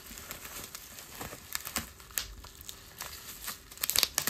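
Scissors cut plastic packaging off an airsoft M4 gun, giving quiet, close crinkling and snipping sounds with small irregular crackles and no talk.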